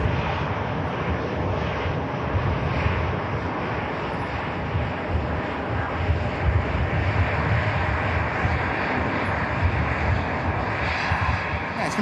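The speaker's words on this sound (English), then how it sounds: "This aircraft's got about 40 minutes flight ahead of it" Eurowings passenger jet engines at an airport, a loud steady broadband roar sustained throughout with faint wind buffeting.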